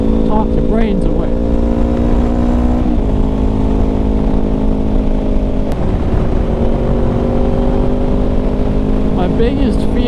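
A Kawasaki Ninja 400 cruising in fifth gear drones steadily and loudly, its engine pitch holding level with small dips, over constant wind roar.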